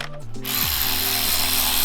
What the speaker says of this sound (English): Get yourself an electric ratchet